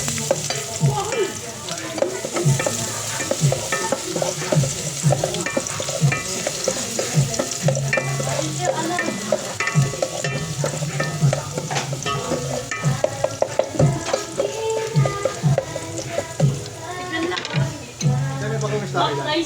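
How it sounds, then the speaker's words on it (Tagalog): Garlic and onion sizzle in hot oil in a saucepan while a utensil stirs busily, a dense continuous frying crackle with frequent scraping, loud and close, with voices talking over it. "brown na po ang ating bawang at sibuyas"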